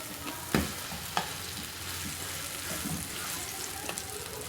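A vegetable toast sandwich cooks in a pan with a soft, continuous sizzle, broken by a couple of sharp knocks or taps, fairly faint and close.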